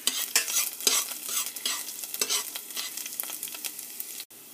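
Garlic sizzles and fries steadily in a hot pan while it is stirred, giving continuous close crackling with scraping stir strokes throughout, alone and without talk, cutting off abruptly at the end.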